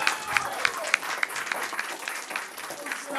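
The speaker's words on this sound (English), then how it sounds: "a big round of applause for Jay Quan" Audience at a hip-hop induction podcast event applauds for Jay Quan, a fairly quiet crowd clapping with sharp individual claps standing out near the front, and some voices mixed in.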